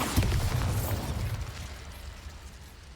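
A Bombarda spell explosion in Hogwarts Legacy hits with a loud, low booming burst at the start, then fades into a rumbling tail over the next few seconds.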